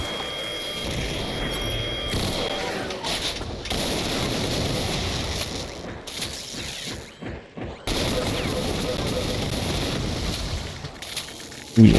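Continuous gunfire and blasts from the Doom game on the Alien Vendetta map, dense rapid shots with crashing impacts lasting the whole stretch, briefly dropping out twice before resuming loud.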